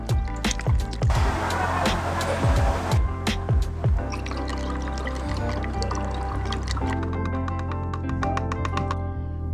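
Water and cleaner poured into the coolant system of a Suzuki GSX-R 600 motorcycle, a steady liquid fill with sloshing and dripping over a clanking background, close and fairly loud, no talk.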